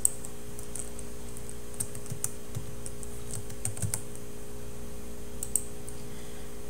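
Sparse, light keystrokes on a computer keyboard as a username is typed, with scattered individual clicks and short gaps over a faint steady hum.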